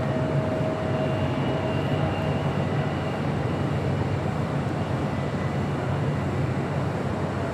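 A Delta Airlines Boeing 767-300ER jet arriving at LAX, a broad steady engine roar with a faint whine, sustained and moderately loud, with no one talking.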